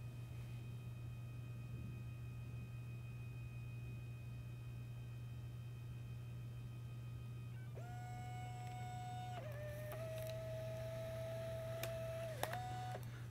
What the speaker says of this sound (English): And now the image will then print from the Share printer.